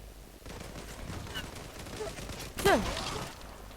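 Gunfire rattles in a Zula online shooter match on a ship hangar map, a quick burst of shots with a louder volley near the end, under excited player chatter.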